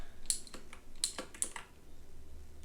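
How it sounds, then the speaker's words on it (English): A few scattered keystrokes on a computer keyboard, quick crisp clicks close by in a quiet room. "decrease the amount of keyboard sounds you hear"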